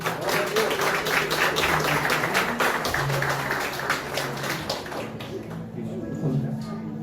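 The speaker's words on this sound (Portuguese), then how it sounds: "Dá uma salva de palmas para Deus, né?" A church congregation at a communion service claps along while voices keep talking over it. The applause is steady and moderately loud for several seconds, then thins out toward the end.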